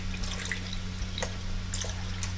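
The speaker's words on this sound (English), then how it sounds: "So I'm going to pour the black tea in here like this." Black tea is poured into a bottle, giving a soft trickle with a few splashy drips over a low steady hum, close and fairly quiet.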